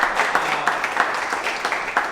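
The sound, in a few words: round of applause for the teachers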